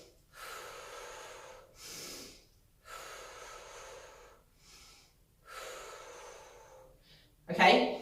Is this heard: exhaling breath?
yes